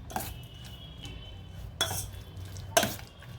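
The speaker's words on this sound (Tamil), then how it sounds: "இப்போ இது எல்லாத்தையும் ஒன்று சேர்த்து மிக்ஸ் பண்ணிக்கலாம்" Spoon mixing panchamirtham of mashed banana, rock sugar, cardamom powder, honey and ghee, three sharp clinks of metal on the bowl spaced about a second apart over a quiet background.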